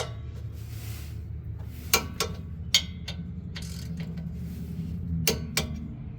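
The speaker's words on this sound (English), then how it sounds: "Torque wrench set to 27 foot-pounds." Torque wrench tightening a rear sway bar bolt on a Ram 1500, a few sharp metallic ratchet clicks in short bursts over a low hum, close and alone.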